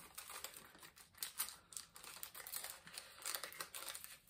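A purple stripy paper bag sealed with a sticker is pried open, giving close, crisp crinkling and rustling in quick, uneven bursts, with no speech over it.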